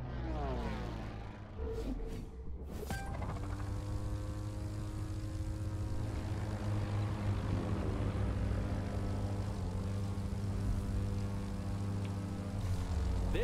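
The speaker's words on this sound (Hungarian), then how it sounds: "Igen, most érünk rá akkor repülőkre." Propeller airplane engine in the racing video game The Crew 2, a loud steady droning hum with strong harmonic tones that shift in pitch early on, then hold even to the end.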